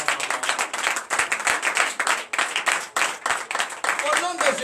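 A congregation at a church service claps in acclamation, a fast, steady run of close, crisp handclaps with brief dips, and a voice rises faintly near the end.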